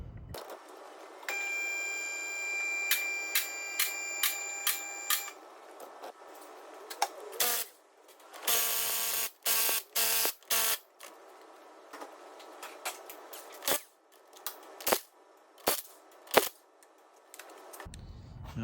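Removing the driver's side wheel from a 2004 Audi A3 2.0 TDI, with a pneumatic impact gun firing short repeated bursts, metallic clicks and clanks of lug work, close and without talk.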